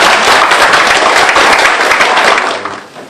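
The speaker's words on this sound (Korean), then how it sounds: "많은 박수 부탁드립니다" Loud, dense applause from an audience at a Seoul National University public leadership academy closing ceremony, sustained clapping that fades toward the end.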